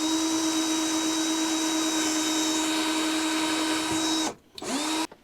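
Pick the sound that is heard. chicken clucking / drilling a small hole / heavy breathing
drilling a small hole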